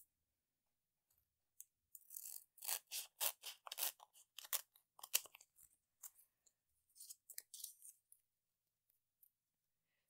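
Scissors snip low profile craft foam in a quiet room, a close series of short crisp cuts in two bursts with a brief pause between them.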